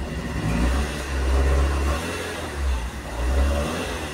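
A Fiat Uno with a Fire engine runs rough and misfires, its mid-pitched engine hum surging and dipping unevenly as it struggles to rev, close and continuous with no talk.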